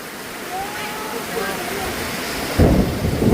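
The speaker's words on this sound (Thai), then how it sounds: "พายุ" Heavy rain roars steadily with a low thunder rumble, faint voices calling in the background, and a sudden louder gust of downpour near the end.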